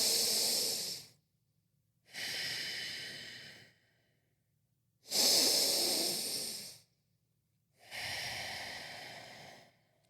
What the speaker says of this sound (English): you start breathing in through your nose and out through your nose. Deep breaths.